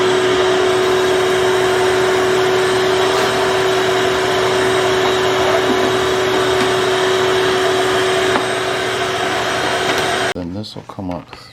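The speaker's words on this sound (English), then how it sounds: "We're going to want a shop vac." A shop vac runs loud and steady with a constant droning whine during railing installation in a pole barn loft, then cuts out near the end as a voice speaks.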